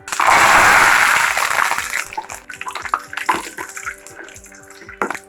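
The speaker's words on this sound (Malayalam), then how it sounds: "ഇനി അവസാനമായിട്ട് നമുക്ക് കുറച്ച് കറിവേപ്പില ഒന്ന് ഫ്രൈ ചെയ്തെടുക്കാം" Curry leaves fried in hot oil for Kerala-style ribbon pakkavada give a loud, dense sizzle for about two seconds, then settle into sparse crackles and pops. No one speaks.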